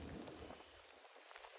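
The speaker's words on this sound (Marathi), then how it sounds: "पाऊस खूप पडतोय पाऊस." Heavy rain falls as a dense, steady hiss throughout, fairly loud and close, with a stronger low rumble in the first half that thins out later; no voices.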